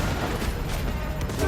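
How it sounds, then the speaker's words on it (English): Grenade blasts in the video game Cyberpunk 2077 during a chaotic firefight, a dense, steady roar of booming detonations and rapid gunfire packed together at close range, loud throughout with no pauses and no voices. "Who's going around throwing grenades like crazy people?"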